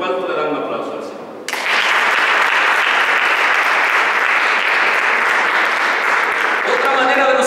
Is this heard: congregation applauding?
yes